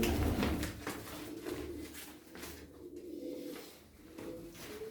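Pigeons cooing inside a coop prepared for winter, soft repeated throaty coos and rustles close by in a quiet space, with no talking.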